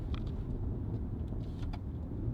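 A BMW G30 540i with the B58 engine, stock downpipes, software tune and Valvetronic exhaust valves open, gives a subdued overrun rumble with a few faint scattered crackles.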